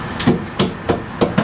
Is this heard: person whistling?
no